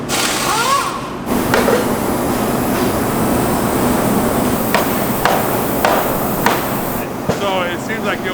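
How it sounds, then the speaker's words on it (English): A hammer strikes a freshly molded, still-hot plastic part several times, sharp knocks spaced irregularly over a constant loud industrial machine hum. "Hitting it with a hammer is going to hurt it."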